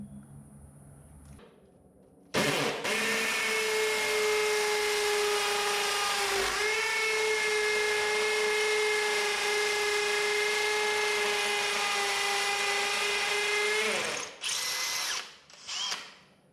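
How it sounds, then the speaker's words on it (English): A power drill with a masonry bit whines at a steady high pitch for about twelve seconds drilling into wall tile, briefly dipping once, then stops, followed by a few short clatters. "we're going to switch to our masonry drill bit again."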